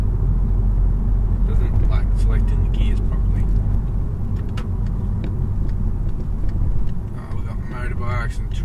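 Twin-charged Volkswagen Golf on a mountain road, its engine a steady, close low rumble throughout with a brief dip near the end, while people talk quietly inside the car.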